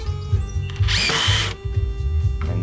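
A close power drill driving a screw into a wooden picnic table whines up for about half a second with a high buzzing pitch, while a low mechanical hum continues throughout.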